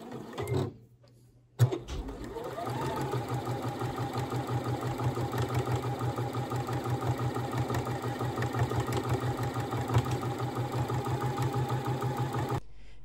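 Domestic sewing machine running a long continuous stitch along a tote bag handle, a steady rapid mechanical chatter close up after a brief start and pause, then running evenly to the end.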